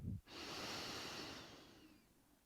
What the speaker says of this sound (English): To close the eyes or soften the gaze and take a deep inhale.